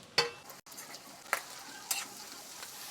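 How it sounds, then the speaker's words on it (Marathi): Cut onion is dropped into a pan of chillies, giving quiet, close frying sounds: a few sharp sizzling bursts and stirring scrapes over a soft, steady hiss. "आणि हा कट केलेला कांदा टाकते मी आता."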